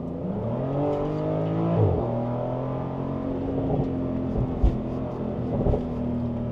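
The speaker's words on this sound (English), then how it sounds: "Nice sound from the exhaust" A Porsche 911 Targa 4S exhaust drones steadily while driving a mountain road at Jebel Hafeet, UAE, with the engine note rising and falling through gear changes, heard from inside the car.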